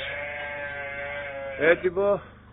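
Sheep bleat at milking time in a sorted flock in Rovies, Evia, a few close, loud, wavering calls near the end over a steady background hum.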